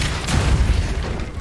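Depulso spell cast in Hogwarts Legacy, a short, loud, dense rumbling blast with a booming low end that lasts about a second and a half.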